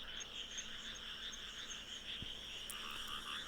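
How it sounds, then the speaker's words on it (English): Frogs croak in a steady chorus across flooded, water-logged rice fields, a dense continuous trilling carried at a moderate distance with no voices over it. "You can hear frogs."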